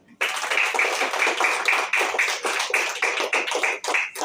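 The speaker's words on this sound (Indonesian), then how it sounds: "tepuk tangan dulu." Classroom applause after a simple science lesson, a sustained burst of many hands clapping in a fast, slightly uneven rhythm, close and fairly loud throughout.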